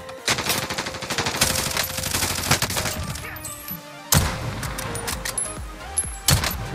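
Gunfire in the Warzone video game, with Kar98 rifle shots among loud sharp cracks over dense continuous in-game battle noise, followed by abrupt bursts near the end.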